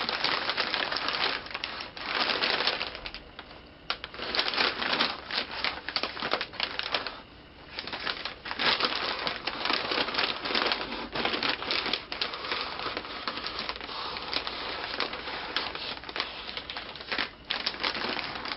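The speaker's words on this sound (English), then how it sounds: "They scratch at the paper." Fingers scratch and scrape at brown butcher paper wrapped around a head, producing close, busy scratching and crinkling in rapid bursts, with a few brief pauses.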